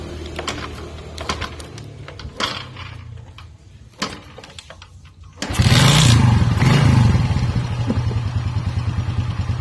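A Suzuki Shogun motorcycle engine, just fitted with a new fuel hose, starts after a few scattered clicks and knocks, then runs with a steady, fairly loud, close idle that continues to the end.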